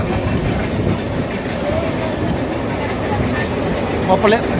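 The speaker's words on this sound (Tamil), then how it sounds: "அது வந்து போத்தனூர் போக ஸ்ட்ரைட்டாக கோயம்புத்தூர் போக ரூட்டில் அது ட்ரெயின் போயிட்டுருக்கு." A passenger train on the Erode to Palakkad route near Podanur rumbles along the rails with a dense, steady roar and faint clickety-clack, heard from inside, and a brief squeal near the end.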